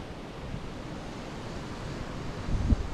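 Steady wind buffeting the microphone outdoors while fishing, a continuous rushing roar with a few louder gusts toward the end.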